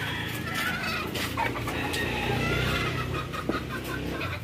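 Chickens cluck in short, scattered bursts over steady background noise, with a sharper squawk near the end; nearby but not loud.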